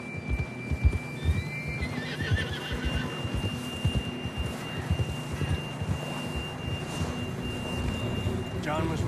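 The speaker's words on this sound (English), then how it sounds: "John was riding that horse when we left Blackwater" A horse in the Red Dead Redemption 2 video game whinnies loudly near the start, followed by soft hoof clip-clops and ambient game sound, with a faint tonal hum underneath and a brief chirping cue near the end.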